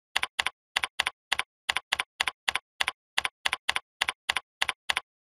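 Computer keyboard typing during data entry in accounting software, a steady run of about twenty crisp, evenly spaced keystrokes, close and clear with no talking.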